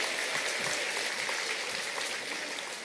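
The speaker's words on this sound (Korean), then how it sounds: "지금 어마어마하게 박수를 치시는 분은요" Enthusiastic audience applause at an Atomy marketing seminar: dense, steady clapping from a crowd that holds an even level throughout, with no clear voices above it.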